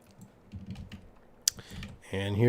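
Keys clatter on a computer keyboard in a quick, uneven burst of close clicks for the first couple of seconds, followed by a short louder sound at the end.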